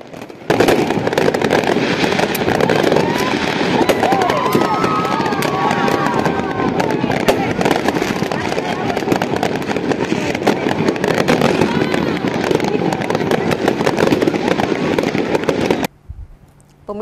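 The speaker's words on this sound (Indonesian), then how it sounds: "menikmati suasana Pantai Losari dengan pesta kembang api" Continuous rapid crackling and popping of New Year's fireworks at Losari Beach in Makassar over the murmur of a crowd, dense and sustained, with occasional whistling bursts.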